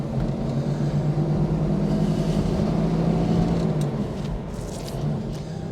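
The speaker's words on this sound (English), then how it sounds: "Okay, so we're definitely warming up, as you can see." A 1963 Studebaker Avanti R1 engine idles as it warms up, giving a steady, close, low rumble with an even tone that barely changes throughout.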